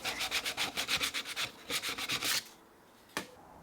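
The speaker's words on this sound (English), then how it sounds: "I've got it all sanded down and all the tenons cleaned up" Rapid, rhythmic rasping strokes of hand sanding on the wooden tenons of a church chair, steady back-and-forth for over two seconds, then a pause and one final scrape, close and with no talk.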